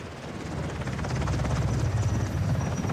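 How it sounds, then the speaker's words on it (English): Helicopter flight in the 007 First Light video game, a continuous loud rotor thump with rhythmic low pulsing and engine whine that swells slightly and holds steady, with no voices. "We're on a chopper."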